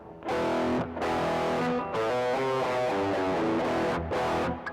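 Distorted electric guitar through a Tank-G unit with the IR cab simulation switched off, sounding thin and tinny; loud strummed chords in several bursts separated by brief gaps.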